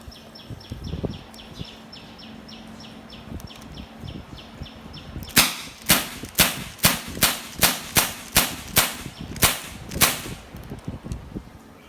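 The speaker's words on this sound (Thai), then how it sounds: "ก็สามารถยิงได้เลยนะครับ ทดสอบนะครับ" Wingun 708 air pistol fired in test: about ten sharp, loud cracks in a fairly steady rhythm, following a few seconds of quieter handling and low mechanical noise.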